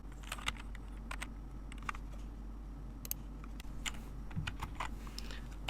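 Typing on a computer keyboard to enter a value during SolidWorks simulation work. Scattered, close keystrokes click over a steady low hum in a quiet room.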